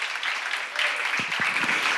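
Church congregation clapping at a seminar, a dense burst of many hands at moderate distance. A few louder nearby claps stand out toward the end, with no talk over it.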